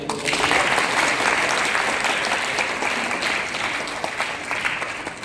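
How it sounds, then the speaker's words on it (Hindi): A college audience at a JNM College campus event in Jahanabad breaks into sustained, dense applause, many hands clapping steadily at close range for the full stretch with no voice over it. "उस राबड़ी देवी जी के लिए ताली बजाइए"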